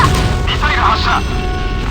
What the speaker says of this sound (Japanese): ミサイル発射。